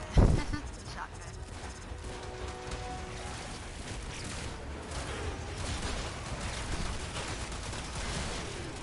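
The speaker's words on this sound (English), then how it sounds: "It's a shotgun." A shotgun fires in a video game capture mission, opening with one sharp blast followed by dense, continuous gunfire and mechanical clatter, with a voice talking over the action.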